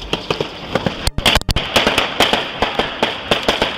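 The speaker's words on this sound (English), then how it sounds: "the initial burst of the suspect shooting at him" Fully automatic gunfire during a police shootout in Houston, a rapid string of sharp, loud cracks in uneven bursts over roughly four seconds, with no speech.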